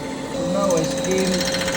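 Brief, steady machining drone from a skimming machine cutting a Nissan GTR R35 engine block, a dense whirring grind with faint tonal squeals, close and continuous.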